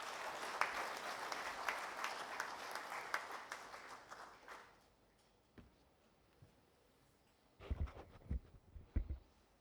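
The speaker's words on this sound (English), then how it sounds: "Can we hear some claps, please?" A crowd at an awards ceremony's inaugural session claps steadily for several seconds, then the applause fades into scattered individual claps and a few louder bursts near the end.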